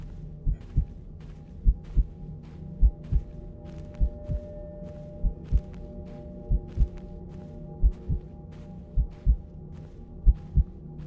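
In the horror video game Mimic, a heartbeat throbs steadily, each soft double thump repeating about once a second over a low ambient hum, with no one talking.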